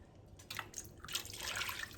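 Water from two cans poured into cream of mushroom soup in a pot, a short splashing pour that starts in bursts and then runs more continuously, close and fairly quiet.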